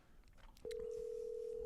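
A telephone call is placed: a few faint clicks and taps, then a steady, loud electronic tone that holds to the end.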